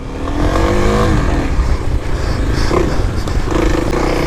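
A 2021 Kawasaki KLX300 dirt bike rides muddy single track over roots and logs, its engine droning loud and steady with revs rising and falling and some scraping throughout.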